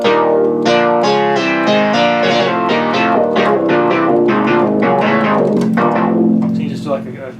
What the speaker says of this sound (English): so actually what I've done, I built a chord.